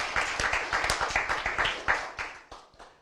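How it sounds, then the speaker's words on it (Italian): Clapping from a small group of spectators at a cyclocross race, the Gran Premio Cartoveneta, a quick run of dense, uneven claps over a few seconds, fairly close. "Un applauso."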